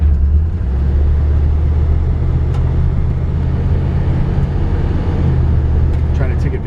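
A 1975 Chevrolet Camaro cruises down the road, heard as a steady, loud low rumble of engine and tyre noise from inside the car, with a faint tick near the end.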